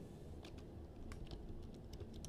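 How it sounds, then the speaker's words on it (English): Soft typing on a computer keyboard while a URL is entered, faint scattered key clicks over steady room hiss with no voices. "And you're going to type this URL out just like it is."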